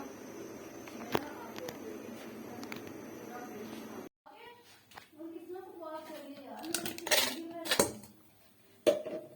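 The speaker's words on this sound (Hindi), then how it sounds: "प्याज कटिंग करते हैं और टमाटरों को काटते हैं" A knife chops onions and tomatoes in a home kitchen while pasta cooks, giving irregular close taps and clatters on a board with scattered dish and utensil clinks and a short pause partway through.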